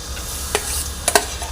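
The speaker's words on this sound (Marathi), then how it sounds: "हा एकसारखा हलवत राहायचा खाली करपणार नाही याची काळजी घ्यायची आहे" A few quick scrapes of a spatula against a dry, hot kadhai over a low gas flame break a soft, steady background hiss; brief and fairly close, with no talking.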